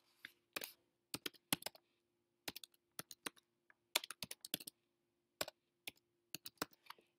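Quick bursts of typing on a computer keyboard as a site name is entered, with crisp, close key clicks in short clustered runs and brief pauses, alone in a quiet room.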